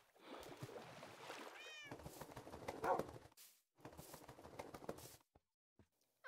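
A black cat meows in the Minecraft video game amid other game sounds and a player's voice, with one distinct rising-falling meow standing out among the busy clatter.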